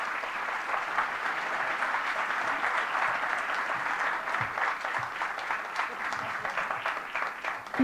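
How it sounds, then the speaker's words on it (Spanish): Steady applause from a crowd, sustained clapping with no voices, holding at an even level throughout. "Un aplauso para ella."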